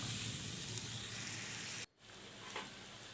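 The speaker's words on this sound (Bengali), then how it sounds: "এই আলুটা আমি একটু তেলের মধ্যে পেঁয়াজের সঙ্গে একটু ভেজে নেব" Potatoes and onions frying in oil give a steady soft sizzle and hiss, broken by a brief pause before the sizzling quietly returns.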